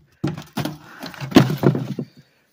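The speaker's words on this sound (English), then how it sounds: "So he's just gonna open his door." A door in a house is opened with a series of wooden knocks, thunks and a short creak, close and moderately loud, with no talk over it.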